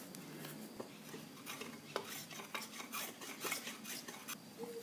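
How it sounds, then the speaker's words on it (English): Rasping strokes of a rat tail file working the soft steel head of an old splitting maul, a steady series of scraping passes with small metallic clinks, close and fairly quiet, no talking. "Just got a rat tail file."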